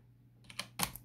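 A few separate keypresses on a mechanical gaming keyboard with Cherry MX Red switches: about four close, sharp clacks after a short quiet start, the last ones loudest.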